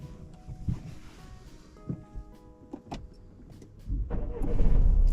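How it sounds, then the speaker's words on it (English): A car engine turns over during a driving lesson on a road: quiet cabin rustles and small knocks give way near the end to a rising, steady engine rumble close by. "I want you to start the engine."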